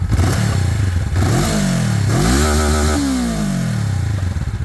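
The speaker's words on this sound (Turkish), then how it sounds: "Şimdi motorun sesini dinleme zamanı gaz veriyorum" A Honda CB500 Hornet motorcycle engine revs hard several times, pitch sweeping up and dropping back between throttle blips, loud and close.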